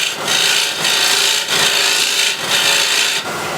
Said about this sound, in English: So I'll use a small spindle gouge